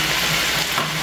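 Onions sizzle in a hot pan for adobo, giving a continuous, loud, close hiss of frying that stays even throughout.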